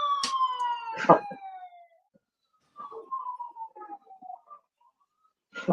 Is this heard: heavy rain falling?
no